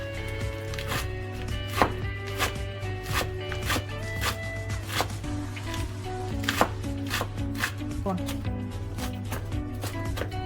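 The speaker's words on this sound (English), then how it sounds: "you're going to need a bunch of spinach, and you're going to chop them into very thin slices as well" A knife chops a bunch of spinach into very thin slices on a board, giving a run of quick close taps under steady background music.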